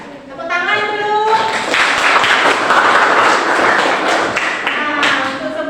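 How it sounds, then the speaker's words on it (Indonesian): A school class claps hands together after a student reads, a busy patter of clapping rising in the middle, with a voice speaking at the start and again near the end. "Ya, tepuk tangan dulu."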